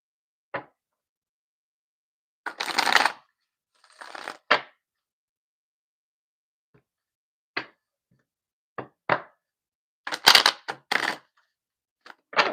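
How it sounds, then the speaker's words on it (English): Tarot cards being shuffled by hand, producing short crisp riffling bursts separated by silence, close and fairly quiet, with no talk. "That wasn't a very good shuffle."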